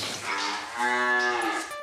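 A dairy cow on a farm in northern France gives one long, loud, close moo that rises and swells before fading, heard alone without talk.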